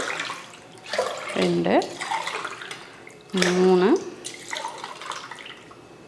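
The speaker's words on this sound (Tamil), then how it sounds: "தண்ணி ஊற்றிடலாம்." Water poured from a tumbler into a pot of rice being cooked for coconut and carrot rice, two splashing gushes between which someone speaks.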